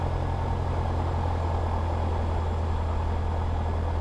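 Light aircraft engine warming up at 1200 rpm, a steady, loud low drone with constant rumble throughout, close by and with no talking.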